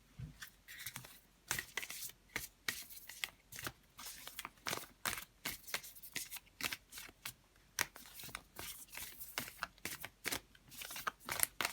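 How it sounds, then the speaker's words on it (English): A deck of double-sided oracle cards is shuffled and cut, with rapid repeated close riffling and slapping bursts in a steady rhythm throughout. "Now these cards are double-sided, so I'm gonna basically cut the deck so that way I don't see what I'm pulling here for you"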